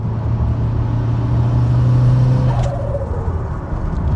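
A Ford RS car with a forged engine pulls hard in fourth gear at about 50, its engine a loud, close, steady rumbling drone whose pitch climbs and then fades back.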